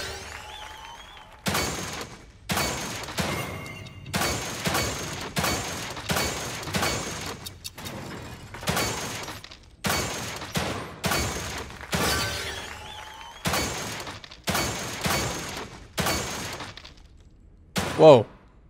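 A sequence of single gunshots at a target range in The Evil Within 2, each a sharp crack followed by a decaying echo, fired at irregular intervals with short pauses between them, closing with a brief louder thud.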